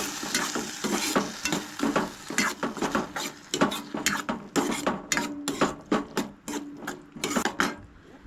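Soy sauce and ketchup being mixed in a pan for cabbage Manchurian, with quick rhythmic scraping and clinking of a spoon against the pan over a low sizzle, close and busy without speech.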